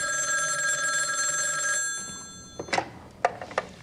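A telephone rings during a call in the adventure game The Beast Within: A Gabriel Knight Mystery, with a steady electronic bell trill for nearly two seconds followed by a few soft clicks and thunks as the line connects.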